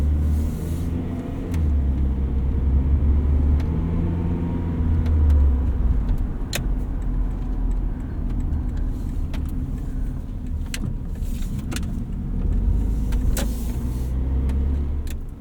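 A 1988 Honda Prelude Si, third generation with automatic transmission and four-wheel steering, rolls along with a steady low engine and road rumble from inside the cabin, swelling briefly as it accelerates, with faint clicks and rattles throughout.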